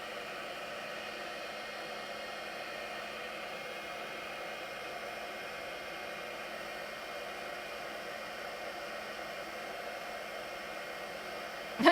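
An embossing heat tool blowing hot air to heat-set stamped embossing powder, a steady even fan-like whoosh that runs unbroken and fairly quiet for the whole stretch, with no one speaking.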